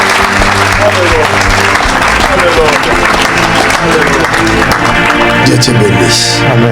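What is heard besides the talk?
audience applause and cheering for Jesus Christ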